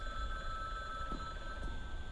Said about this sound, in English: I hear the phone ringing, too.